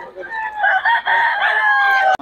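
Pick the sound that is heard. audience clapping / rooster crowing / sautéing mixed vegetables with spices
rooster crowing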